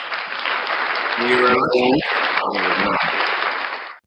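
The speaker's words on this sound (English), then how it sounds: "Round of applause, of course, for you guys." Live audience applause, a dense steady wash of clapping throughout, while someone speaks over it near the start.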